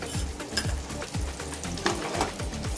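Butter and oil sizzle in a pan for pav bhaji, a steady close frying hiss broken by repeated soft scraping stir strokes, with no talking.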